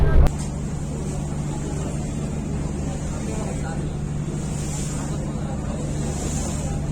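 The passenger launch MV Sonar Tori churns along the river from Munshiganj toward Dhaka, its engine a steady low drone with wind and water hiss, loud and unbroken after a brief thump at the start.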